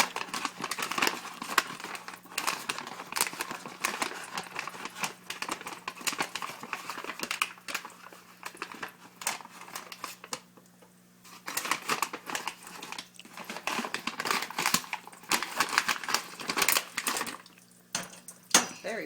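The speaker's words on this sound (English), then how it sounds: "Let's put it in a hot pan. Make sure we get it all scooped out of the bag." Microwave popcorn being scooped out of its paper bag into a hot pan, heard as steady crinkling of paper and light rattling and scraping of kernels against the pan, close and fairly quiet.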